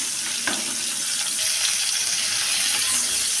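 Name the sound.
frying pointed gourd (potol) with turmeric and salt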